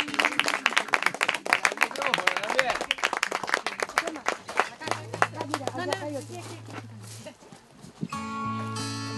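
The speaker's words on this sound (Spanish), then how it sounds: "Un gran aplauso para ellos." An audience claps in a lively, sustained round of applause for performers on a show, with cheering voices mixed in, before music begins to rise at the end.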